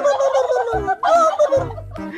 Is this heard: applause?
no